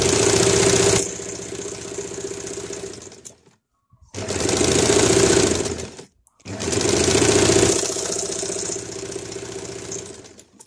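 A sewing machine stitches fabric stripes for a blouse back neck in three loud, close runs of steady rattling hum, separated by two brief pauses, with no talking.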